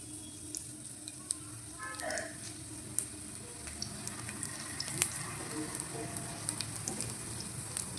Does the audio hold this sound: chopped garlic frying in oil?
yes